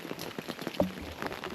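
Rain falling outdoors and pattering on an umbrella, a steady soft spatter of drops with a brief louder tap near the middle.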